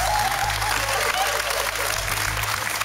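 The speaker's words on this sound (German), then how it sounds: "Auch ein Applaus vor dem Einloggen ist eine Hilfe." Studio audience on a German television quiz show applauding, dense continuous clapping at close range throughout, with people talking over it.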